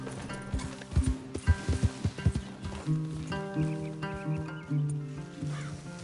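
A horse in Red Dead Redemption 2 clip-clops along with uneven hoofbeats in the first half, then gives a drawn-out whinny with ambient game sound behind it, no talk.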